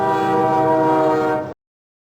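SimCity's railroad construction effect from the 1993 Enhanced CD-ROM PC/DOS release: a loud, steady, horn-like harmonic tone held for about a second and a half with no other sound, ending in a sharp cutoff.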